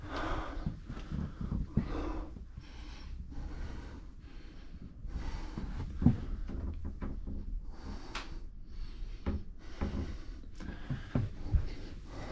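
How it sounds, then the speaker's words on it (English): Old wooden floor creaking on an abandoned ghost ship, with irregular creaks, knocks and footsteps moving through the cabin close by, plus occasional breathy sounds. "Floor is creaking."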